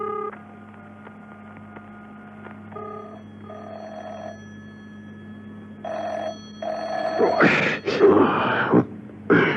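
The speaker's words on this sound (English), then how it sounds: "Mrs. Peel listened intently to the phone ringing at the other end." A car telephone rings repeatedly with no answer, evenly spaced electronic rings under a low hum, followed by louder rustling and bumping noises near the end.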